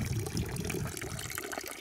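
Water pours from the spout of a stone fountain with a trough high on a mountainside near a village, a steady close-up gushing and splashing flow with no talk over it.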